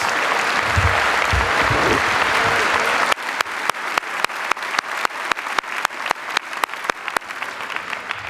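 High school graduation ceremony audience applauding students who stand, a dense crowd clapping for about three seconds that breaks into rhythmic unison claps, a steady beat of sharp, loud hand claps in an echoing hall.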